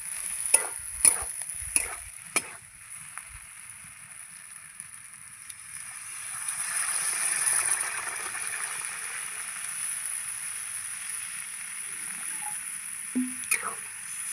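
Water is poured into a pan of fried spice paste for a fish roe curry, sparking a burst of sizzling and steam hiss after a few sharp knocks, then settling into quieter simmering with occasional stirring clinks.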